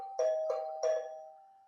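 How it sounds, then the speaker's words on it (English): A doorbell chimes three times in quick succession, clear and fairly close, each ring decaying into a lingering tone with no voices over it. "the doorbell rings."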